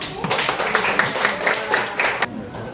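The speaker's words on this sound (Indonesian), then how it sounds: "Beri tepuk tangan untuk kelompok 1." A classroom of students claps together for a group about to present, a brief burst of close, scattered hand claps with some overlapping voices, ending abruptly.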